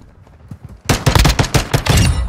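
Rapid automatic gunfire bursts loudly in a Call of Duty: Modern Warfare II match, starting with a few faint shots, then dense repeated volleys of close, sharp cracks.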